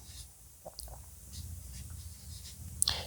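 Pen or marker writing an equation by hand, a few short scratchy strokes in quick bursts with brief pauses, close and quiet.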